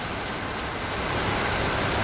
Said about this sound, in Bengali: যে বৃষ্টির অবস্থা, আমার তো মনে হয় আধা ঘন্টা 1 ঘন্টা আগে থামবে না